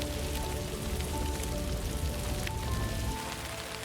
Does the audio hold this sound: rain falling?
yes